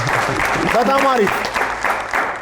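A studio audience claps for game show contestants, a short burst of steady applause running under a voice that speaks briefly over it.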